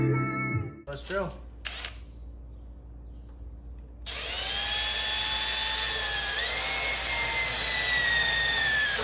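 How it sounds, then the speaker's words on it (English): Power drill boring holes while side skirts are fitted to a Subaru Impreza GF8 wagon; a few clicks and handling knocks come first, then the drill whirs steadily and loudly to the end, its pitch dipping briefly midway. "Let's drill."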